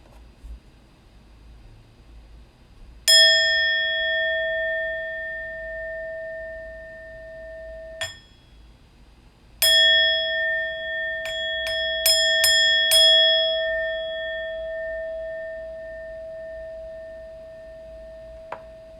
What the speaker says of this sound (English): I'll ring the bell a few times